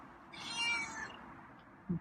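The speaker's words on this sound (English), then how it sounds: "So there was a louder meow." A cat meows once from under a chair, a mid-length cry fairly close, followed near the end by a short low thump in a quiet room.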